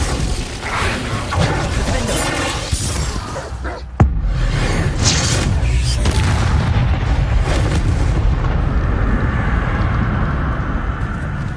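Confringo fire spell blasts in the Hogwarts Legacy video game, a sharp loud crack near the middle followed by dense rumbling booms and shattering debris over continuous battle noise.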